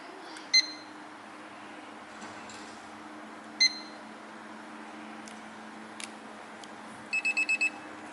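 A Miele RX1 robot vacuum sounds its error alarm in sharp electronic beeps: single beeps a few seconds apart, then a quick run of four or five beeps near the end, clear over a quiet room hum with no talking.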